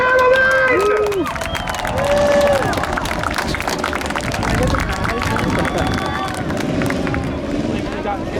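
A large crowd cheers and roars steadily at a car-jumping stunt show at Hudson Speedway, over a busy, noisy background, with an announcer-like voice calling out near the start.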